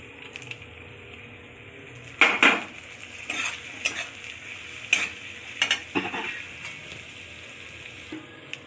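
Fried potato pieces sizzle in a pan while a spoon stirs and scrapes them, giving loud, irregular clatters over a steady frying hiss; nobody speaks.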